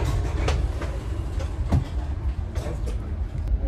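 Dubai Metro train in motion, heard from inside a gold class carriage: a loud, steady rumble with rhythmic rail clacks and rattles, no talk.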